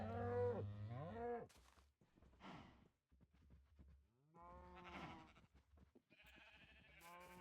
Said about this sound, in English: I got so many sheep